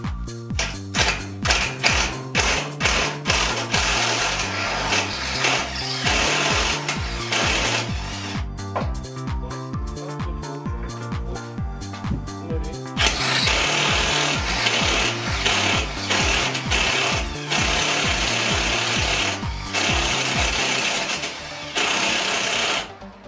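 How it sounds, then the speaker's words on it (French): Cordless drill-driver boring into material on a Renault 4L restoration, a fast rattling whirr that runs in repeated bursts with brief pauses and speed changes, loud and close, no voices. "Percer bien droit si on peut."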